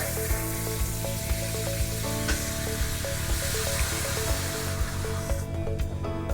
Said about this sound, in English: we'll go ahead and open the faucet so it comes out pink here at the sink